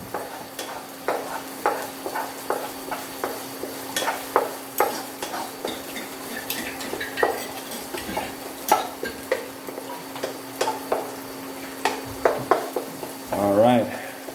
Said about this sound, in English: And then you fry up the chili and garlic.